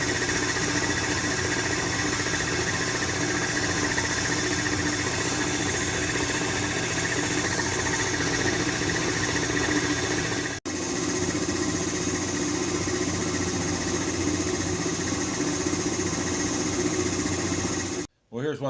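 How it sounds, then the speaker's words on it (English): An oil-cooled rock saw slabs a piece of petrified wood under its hood, producing a loud, continuous mechanical drone with a steady whine that holds for most of the stretch before stopping near the end. "put the hood back on and we'll cut a slab, maybe about 3/16 to 1/4 of an inch"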